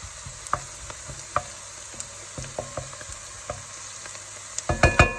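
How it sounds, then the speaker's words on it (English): Garlic and onion browning in a pan: a soft, steady sizzle broken by repeated sharp clicks and scrapes of a utensil stirring against the pan, with a cluster of louder knocks at the end. "Garlic and onion, the perfect couple. Okay, I'll just let them brown a bit more."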